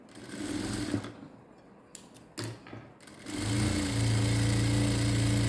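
A sewing machine stitches a blouse seam in short starts and stops, then settles into a steady, fast mechanical whir with a motor hum, close and loud.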